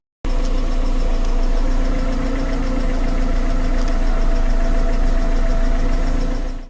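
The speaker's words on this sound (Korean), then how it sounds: "밸브 리피터라는 게 있어요. 엔진 내부에 부품이 마찰되는 소리예요." Car engine idling with a valve lifter fault, a steady close mechanical drone with a faint repeating tick running through it, heard alone without any talk.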